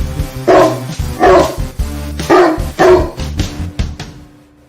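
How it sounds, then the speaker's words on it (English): A dog barking sound effect played on a sports show, with a run of about six loud, close, deep woofs at an uneven pace that fade out into a quieter tail. "We got a barking dog."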